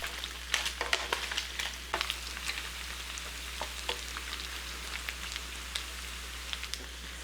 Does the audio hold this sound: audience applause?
no